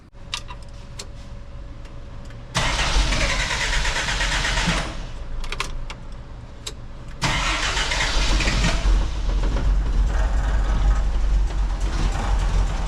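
A Jeep CJ7 engine cranks and catches, jumping to a loud, steady idle, then revs up a bit later and keeps running close by, preceded by a few faint ticking clicks.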